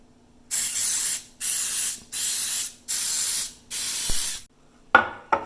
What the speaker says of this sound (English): We're going to spray the muffin tins with Baker's Joy spray.